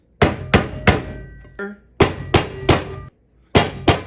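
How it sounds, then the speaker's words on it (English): Sharp metallic hammer strikes on a punch denting a metal heat deflector ring out in quick succession, about eight blows in uneven groups, each with a brief ringing decay, close and loud. "Get our trusty hammer, line this up."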